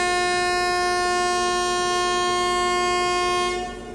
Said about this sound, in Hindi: बिल्कुल निर्धारित समय सुबह 8:15 पर हमारी ट्रेन निकल चुकी है सीतापुर जंक्शन रेलवे स्टेशन से।